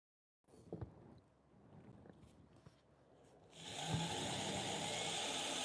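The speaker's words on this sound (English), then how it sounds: "So I'm going to sharpen knives at 2000 RPM, going edge leading." Knife sharpening machine spinning at 2000 RPM, edge leading: a steady, loud broadband whir that starts partway in and holds to the end, with lighter clatter and handling noise before it.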